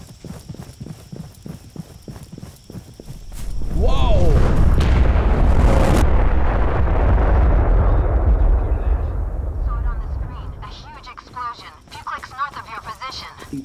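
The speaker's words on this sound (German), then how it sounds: "Das war mal Wahnsinn, die Explosion gerade." A deep, rumbling blast swells and roars for several seconds in a VR shooter game scene, over rhythmic clopping and faint background voices before and after.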